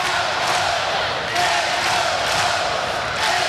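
A packed arena crowd at a Hawaii versus Iowa women's college volleyball match makes a loud, sustained roar with swells of yelling and cheering, steady throughout without a break.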